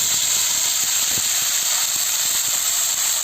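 Banana-stem pieces tipped into hot oil already seasoned with dried red chillies and panch phoron, giving a loud, steady hissing sizzle throughout with faint clicks of stirring and no voices.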